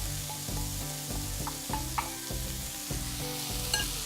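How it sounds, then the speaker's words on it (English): Ground spices hit hot oil in a frying pan for an eggplant peanut stew, giving a steady close sizzle with rhythmic stirring scrapes and occasional light clicks, with no talking. "I'm gonna go ahead and add our spices that we ground up earlier."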